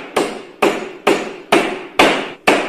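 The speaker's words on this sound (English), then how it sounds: "Stop the hammering." Six loud, sharp hammer strikes land about half a second apart in an even rhythm, each ringing briefly before the next, close and clear with no voices.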